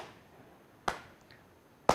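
Two sharp single hand claps about a second apart keep the rhythm in a Kathak dance class, crisp and isolated against a quiet room.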